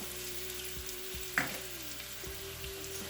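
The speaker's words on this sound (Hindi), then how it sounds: "आलू को हम हाई फ्लेम पे ही फ्राई करेंगे।" Potatoes fry on high flame with Kashmiri red chili powder, turmeric and salt for a Kashmiri tomato-potato dish, giving a quiet, steady sizzle marked by a single sharp clink of a utensil midway and a few soft knocks.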